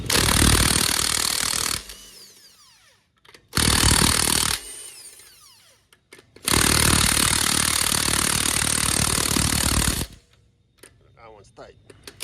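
An air impact gun zips in loud bursts while loosening the wheel lug nuts on a BMW 335i, with three long rattling runs separated by short pauses, close by.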